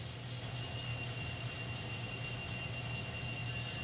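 An N scale model train hauling tank cars runs on a layout, giving a faint, steady low hum and rumble with no pauses and no speech.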